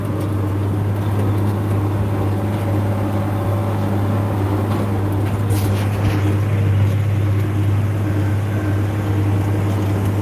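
A 2019 John Deere 9620R tractor with its pump turned up to about 500 horsepower gives a loud, steady low engine drone throughout, heard from close inside the cab, with constant mechanical hum and no talking.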